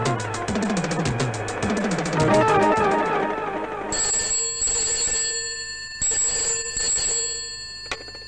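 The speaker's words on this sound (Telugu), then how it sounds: "ఫోన్ వచ్చింది." An old telephone rings loudly in a 1986 Telugu film scene, repeating in rhythmic bursts. The rings start over a musical score, then continue alone with short pauses between them.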